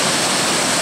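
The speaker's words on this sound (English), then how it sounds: "Water's coming down." Wachirathan Waterfall in Thailand pours down in a steady, loud roar of falling water, a dense continuous wash with no pauses and no voices.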